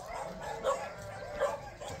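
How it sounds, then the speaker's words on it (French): Dogs at nearby houses bark, two short sharp barks spaced apart, moderately close, over faint background noise. "Toutes les maisons, il y a 2 chiens."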